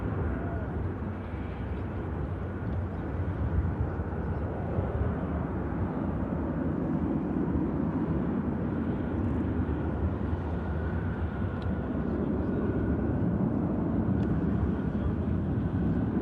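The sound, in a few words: Boeing 737 jet departing Manchester Airport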